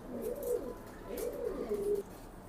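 Racing pigeons coo softly nearby, a few rolling throaty calls rising and falling in quick succession against a quiet background.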